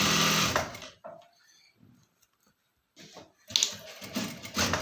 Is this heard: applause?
no